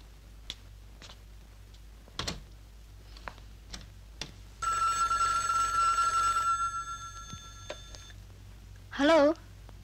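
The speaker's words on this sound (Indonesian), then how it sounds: "Telepon tuh, Bapak." An old telephone bell rings in one sustained burst in a 1980 Indonesian film scene, set among scattered clicks and taps, followed later by a brief warbling tone.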